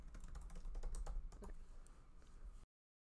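Rapid typing on a computer keyboard, a close, busy run of key clicks that slows slightly before cutting off abruptly.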